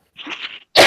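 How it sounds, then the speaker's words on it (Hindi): A single short cough from a student during an online geography lesson, close and fairly loud, followed by a sudden burst of louder noise. "1 मिनट सर, खांसी आ रही है।"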